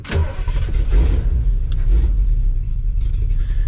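A 1978 Ford F350 crew cab's big block V8 with an Edelbrock setup cranks and catches, blipping loudly a few times close by before settling into a rough, rumbling idle.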